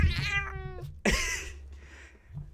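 A pet cat meows twice near the microphone, first with a drawn-out tonal cry and then with a shorter, breathier call, in a quiet room with no talking.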